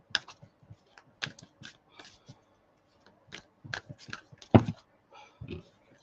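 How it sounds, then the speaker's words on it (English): A deck of tarot cards is shuffled by hand in quick, soft riffling bursts and clicks, a few louder slaps mid-way, close and quiet with no talk. "Okay, so giving them a good shuffle."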